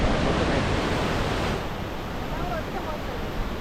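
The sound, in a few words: waterfall, five falls merged into one main fall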